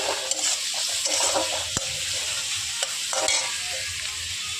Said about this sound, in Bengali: তো পেঁয়াজ কুচিগুলো একটু ভাজা ভাজা হতে থাক।